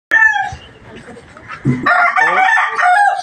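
A rooster crows loudly up close, a drawn-out cock-a-doodle-doo followed by a second burst of crowing with clucking fowl mixed in.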